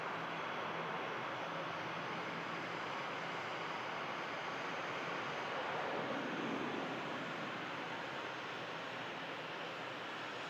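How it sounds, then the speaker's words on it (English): An aircraft landing at Manchester Airport, its steady broadband engine roar holding at a distant, even level throughout, with a slight swell midway and no voices. "we'll see how this aircraft touches down for these lads"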